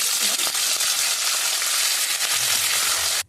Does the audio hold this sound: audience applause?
no